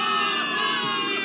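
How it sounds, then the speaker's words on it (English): A dense crowd of soldiers in the video game Zenless Zone Zero cheers and shouts loudly and continuously, a steady roar of many voices. "Give it up for yourselves, soldiers. Cheer for victory!"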